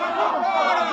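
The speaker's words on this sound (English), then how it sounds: "They're cheering for the bull." A crowd in a plaza roars and cheers for a bull in a radio drama, a dense, loud wall of massed voices with no break.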